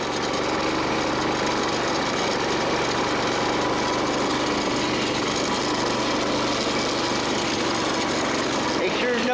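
A 1970s Montgomery Ward three-wheeler's small engine labouring uphill, a loud, steady buzzing drone throughout with no pauses, close to the rider.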